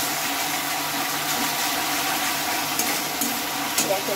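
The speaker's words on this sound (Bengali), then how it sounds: "গ্যাসের আঁচটাকে কমিয়ে দিয়ে এটাকে আমি কিছুক্ষণ কষাতে থাকবো" Spices, paste and chili powder sauté in a pan over a gas flame, giving a loud, even frying hiss with a few short scraping stirs near the end.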